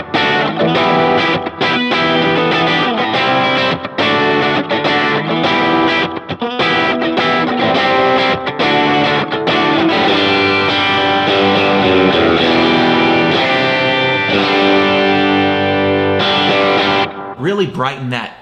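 Telecaster electric guitar through a Line 6 Helix with the EQ brightened, strummed and picked in a thin, articulate, crisp tone with quick rhythmic chops, loud and continuous before ending abruptly.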